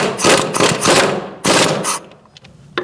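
A wrench snugging up CV axle bolts on a 2008-2014 Mercedes-Benz C300 3.0L V6: two loud, close bursts of rapid metallic ratcheting, then a quiet tail with a faint click.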